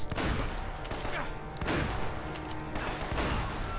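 Enemy gunfire in the Uncharted video game, including a shotgun-wielding foe, rattles in dense overlapping bursts of shots throughout, loud and continuous.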